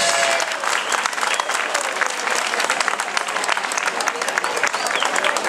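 A concert audience gives sustained, dense applause after a wind band performance in Brusasco, many hands clapping together at an even, loud level throughout.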